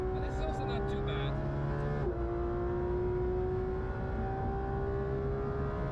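A Manthey-tuned Porsche GT3 RS race car engine roars steadily at high pitch on the Nordschleife, its tone dipping briefly as it shifts, with commentators talking over it throughout.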